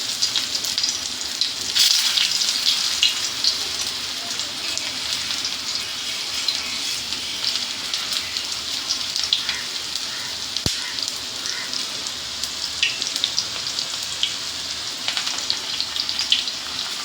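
Chicken keema tikki patties sizzle and crackle steadily in hot oil, a close, even frying hiss with scattered pops that runs the whole time with no talking.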